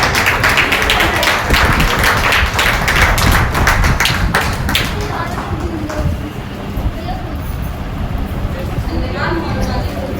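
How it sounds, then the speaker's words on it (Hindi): Applause from an audience at an inaugural session rises as a dense, steady patter for about five seconds, then fades away as a voice begins speaking at the front. "कृपया जोरदार तालियों से स्वागत कीजिए।"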